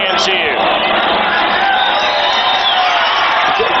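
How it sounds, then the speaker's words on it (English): A large crowd cheers and roars steadily at a 1999 St. Louis Rams at New Orleans Saints football game in New Orleans, a loud unbroken wash of stadium noise with a brief whoop near the start. "Listen to the people cheering"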